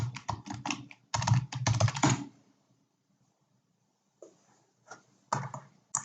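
Someone types a password on a computer keyboard: a quick burst of close key clicks, a pause of about two seconds, then a few scattered taps and a final short cluster of keystrokes, with no voices.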